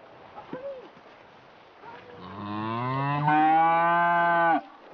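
Cattle at pasture give a long, loud, sustained moo close by, rising in strength before cutting off, preceded by a few faint softer calls against quiet outdoor background.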